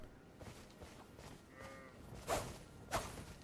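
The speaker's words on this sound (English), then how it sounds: "Get away, you fucking goat." A goat in the video game Elden Ring gives a short bleating moo-like call, quiet and somewhat distant, followed by a couple of soft whooshing swishes over low game ambience.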